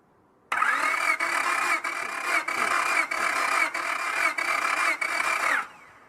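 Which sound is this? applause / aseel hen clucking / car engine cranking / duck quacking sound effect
car engine cranking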